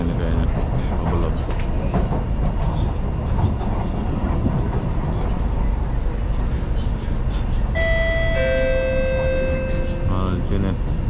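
A Singapore MRT train from Changi Airport rumbles along with a steady, loud interior roar and clatter, then a bright multi-tone chime rings out near the end as voices talk over the ride.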